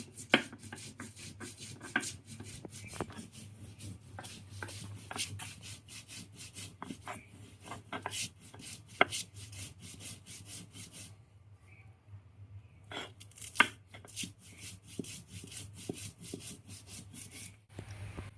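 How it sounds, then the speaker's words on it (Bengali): Cumin and garlic are ground into a curry paste with quick, repeated scraping and rubbing strokes. The strokes are close and rhythmic, pause briefly, then resume. "আমি তরকারির জন্য একটু জিরা রসুন বাইটে নেব"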